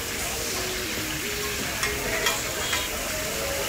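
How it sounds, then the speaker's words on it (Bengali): Fish seasoned with turmeric, chilli and salt fries in hot mustard oil, a steady close sizzle and hiss running throughout with a few soft stirring clicks; a voice is faintly present beneath. "সরিষার তেলে ভাজা হচ্ছে মাছ"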